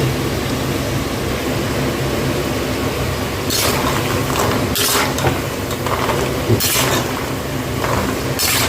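Spicy seedai balls fry in hot oil with a constant bubbling sizzle. Several bright scraping or splashing bursts from stirring come through toward the end. The sound is close and fairly loud, with no talk.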